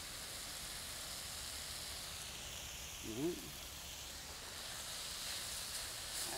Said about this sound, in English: And you can see how quick the meat's cooking.